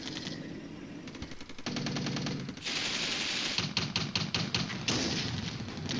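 Computer-controlled artillery strike in the wargame Flashpoint Campaigns Red Storm: loud rapid bursts of gunfire-like impacts rattle continuously for six seconds, with thumping low booms underneath.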